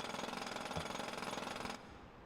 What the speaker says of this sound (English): soothing sounds of a jackhammer.